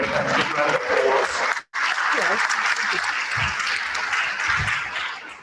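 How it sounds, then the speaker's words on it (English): An audience breaks into warm applause, a dense spread of clapping that stops abruptly for an instant and then picks back up, with a few voices under it. "Let's give Kevin a round of applause."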